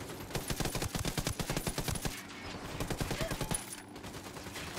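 Rapid, loud automatic gunfire rattles in dense sustained bursts in the video game Ghost Recon Wildlands, with a brief lull between volleys.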